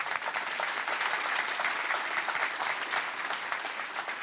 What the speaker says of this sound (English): I have applause for Gabe for that one.